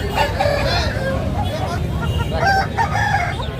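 A rooster crows several times nearby at a Sunday poultry market in Nellore, with clucking fowl and people chatting in the background.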